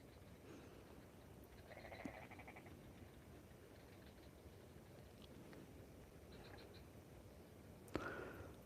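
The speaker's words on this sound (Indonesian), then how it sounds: "Kodok pun pada bernyanyi" Frogs croak and sing at night, a steady low chorus with faint chirping calls rising now and then, heard from some distance in an open outdoor spot.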